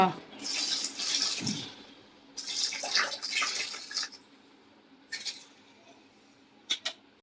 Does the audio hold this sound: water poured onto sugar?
yes